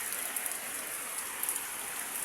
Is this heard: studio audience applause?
no